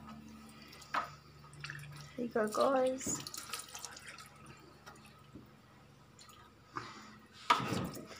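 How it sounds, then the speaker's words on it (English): A small splash of cold water is poured into pesto ingredients ahead of blending, heard as short trickling and dripping bursts up close, with a voice talking over and between them. "I like to add just a little bit of water before I blend it"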